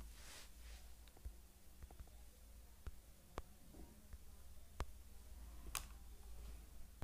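Keystrokes on a computer keyboard while an OTP is entered for HDFC net banking, a handful of sharp, separate taps at an uneven pace, fairly faint against a low hum.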